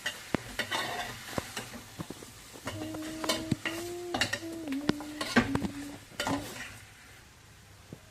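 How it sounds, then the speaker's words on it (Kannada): A mixture with rock salt stirred in a pan for horseradish chutney, with a spoon scraping and clinking in uneven strokes over a soft sizzle and a brief tonal hum in the middle. "ಇದನ್ನೆಲ್ಲ ಒಂದ್ಸಲ ತಿರುಗಿಸ್ಕೊಳ್ಳಿ"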